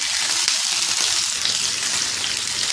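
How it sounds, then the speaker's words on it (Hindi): Goat mutton chops sizzle on a hot tawa, a bright, dense hiss of frying that stays loud and steady from start to finish with no voices. "अब इसमें शामिल कर देंगे 400 ग्राम चाम बकरे की। एक 2 मिनट इसको पकाएंगे।"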